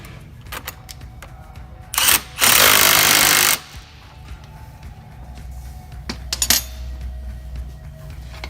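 Bolt and nut being tightened on a John Deere air cart meter during a meter roll rebuild: a loud burst of power tool whirring for about a second and a half, preceded and followed by scattered clicks and metallic taps.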